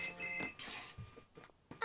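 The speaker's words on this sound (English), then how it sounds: "That's a phone, not a letter." A phone rings in the video game Nights: Journey of Dreams: a bright, bell-like electronic trill that repeats in short bursts, fairly faint and close.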